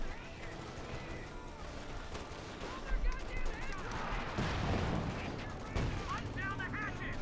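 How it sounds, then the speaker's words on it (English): Rifle grenades and small-arms fire in Company of Heroes 2: a steady crackle of distant shots and bursts with a few heavier thumps, heard under a continuous layer of in-game voices and battle noise. "Got some rifle grenades off here, at least by the sound of it."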